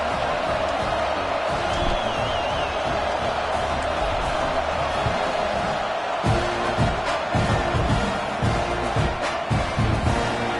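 Football stadium crowd during a kickoff after a one-yard touchdown plunge, a steady wide roar of many voices that continues through the whole stretch with scattered shouts and thumps, subdued rather than wildly cheering.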